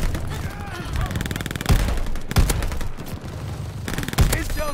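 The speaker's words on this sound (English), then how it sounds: "Enemy throwing decoy." Decoy grenade in a shooter game spraying fake bursts of automatic gunfire, rapid cracking volleys with a few sharper loud pops, dense and continuous over a noisy game mix.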